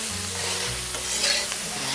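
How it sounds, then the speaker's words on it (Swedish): Boiled new potatoes fry in a pan with a steady close sizzle, while they are stirred and shifted with scraping touches throughout. "en färsk potatis som vi har kokat lite lätt. Och steker på den"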